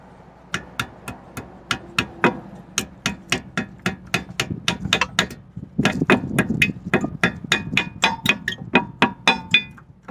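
A hammer strikes metal in a steady, rapid series of sharp clanking blows, close and loud, with no talking, during roadside brake work on worn-out brake pads.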